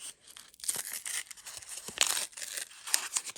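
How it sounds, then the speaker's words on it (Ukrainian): Close crinkly tearing of a plastic packet, several short rips and crackles in quick succession with brief pauses between. "Я порвала цей пакетик"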